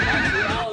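A voice imitates a horse's shrill whinny in one short wavering burst, loud and close.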